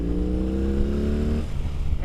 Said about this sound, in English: This bike wants to rev.